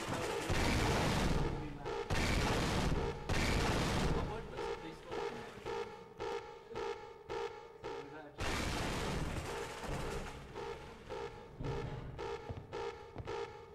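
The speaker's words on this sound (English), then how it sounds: "Game audio is really loud, there's tons of explosions and such" Gunfire and explosions in the Half-Life: Opposing Force video game: loud rolling blasts and rapid bursts of shots, with dense booming stretches and choppy sequences of repeated fire.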